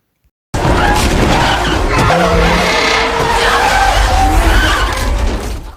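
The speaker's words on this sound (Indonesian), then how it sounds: "mobil mereka tergelincir" A car in a film skids after striking a pedestrian, tires squealing loudly and continuously over a roaring engine for several seconds, close and sustained from start to finish.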